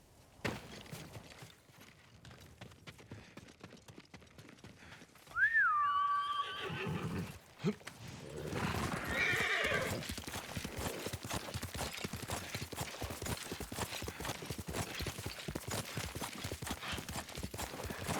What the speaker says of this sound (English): Her horse isn't here.